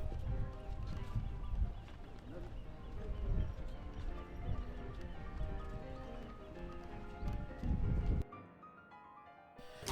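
Horse-drawn carriage clip-clopping along a street in Bruges, with steady hoofbeats close by and a horse whinnying, over busy outdoor background noise; the sound drops away abruptly near the end.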